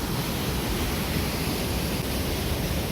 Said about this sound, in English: This is really only the first 3 or 4 waterfalls we've seen.